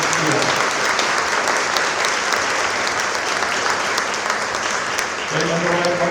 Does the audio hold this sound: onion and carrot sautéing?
no